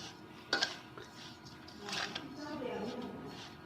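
Ingredients stirred together in a bowl in a home kitchen, with a couple of clinks of a utensil on the bowl and soft scraping, heard faintly under a person talking.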